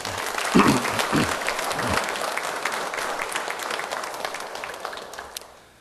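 A church congregation applauds one another in a steady round of clapping that starts with a few voices and sustains for several seconds before fading out.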